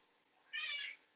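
A house cat gives a single short meow, fairly close and clear against a quiet room.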